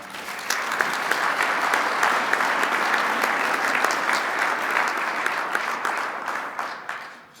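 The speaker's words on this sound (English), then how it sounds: "I hope you'll join me in giving a round of applause to all of those people who really deserve the credit" A crowd applauds at a business awards event honoring a CEO of the Year, the claps steady and full for several seconds before tapering off to quiet at the end.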